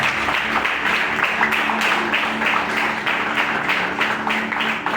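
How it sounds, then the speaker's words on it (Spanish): Church congregation applauding during a sermon, a dense, steady wash of clapping that fills the whole stretch at an even, fairly loud level with no voices over it. "¿Cuánto le dan un aplauso al Señor por esa palabra?"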